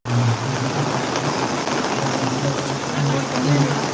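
Steady hiss of heavy rain pouring down in Alappuzha, Kerala, dense and continuous, with a low rumble beneath and faint voices mixed in.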